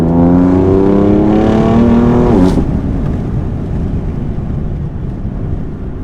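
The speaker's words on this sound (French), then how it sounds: "T'entends bien les turbos avec la fenêtre ouverte." BMW M4 F82 with its 431 hp twin-turbo engine revving hard then lifting off, rising harmonic engine note followed by a brief turbo whistle and whoosh as the throttle closes, heard close through an open window.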